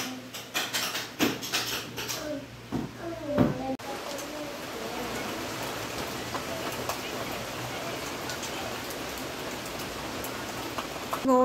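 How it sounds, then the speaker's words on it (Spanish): Heavy rain pours down outdoors, a steady dense patter that runs on after a few seconds of speech, with a brief stretch of talk at the start. "Miren cómo está esto nublado, lloviendo muchísimo."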